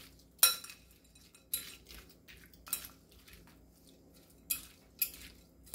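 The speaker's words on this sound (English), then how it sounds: "You're going to take your fork and just kind of mix it all about." A fork clinks lightly against a dish while mixing leftover turkey with vegetables, with about six faint, irregular taps in a quiet room.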